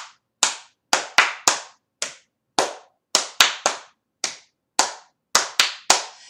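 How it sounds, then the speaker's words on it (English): Hands clap along to a children's Bingo song, about a dozen sharp, close claps in an uneven rhythm, each ringing briefly, with no voices. "We're going to clap the whole time."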